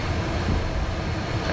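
Phenom 100 jet climbing after takeoff, heard from inside as a steady, loud broadband cabin roar of engine and airflow with no clear pulses or changes.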